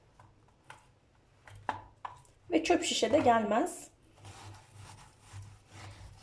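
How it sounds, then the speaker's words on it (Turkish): Several sharp knife strikes on a cutting board as chicken breast is chopped, with a burst of scraping and clatter in the middle, under a person talking. "Hemen bunları doğruyorum."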